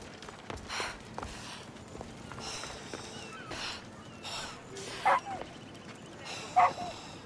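A dog in the Spartan world of Assassin's Creed Odyssey gives a few faint, short yips and whimpers over a low game ambience, with two brief sharper barks near the end.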